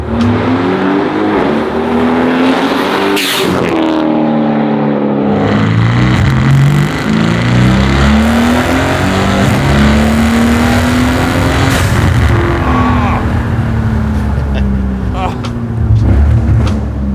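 Red 1,000-horsepower twin-turbo AMG car accelerating hard through its gears, loud engine revs climbing in repeated sweeps with quick shift breaks between them, close and intense, with talk in the car underneath.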